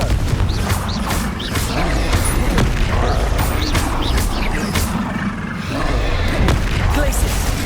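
Confringo fire spells bursting in combat in the video game Hogwarts Legacy, a dense run of booming, crashing blasts repeating roughly every half second over steady game noise.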